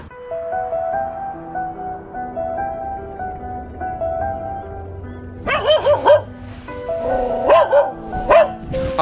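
Dogs bark in a snowy town in Zhmerynka, in Ukraine's Podillia region: several sharp, loud, close barks and yips in quick bursts during the second half, after a stretch of steady background music.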